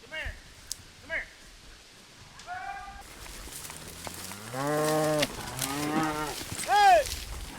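Cattle low and moo during a cattle drive in rugged Idaho ranch country, with several drawn-out calls of varying pitch, some close and loud, mixed with brief human calls and other sounds.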